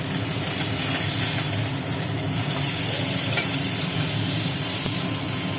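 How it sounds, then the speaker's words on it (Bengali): Bata fish fry in oil with a loud, continuous hissing sizzle that stays close and even throughout. "মাছগুলো মোটামুটি ভাজা হয়ে গেল"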